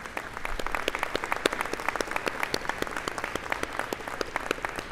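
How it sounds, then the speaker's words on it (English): Applause at a college convocation ceremony, a dense, steady patter of many hands clapping together, fairly close and sustained throughout with no talking over it. "Absolutely, get a round of applause."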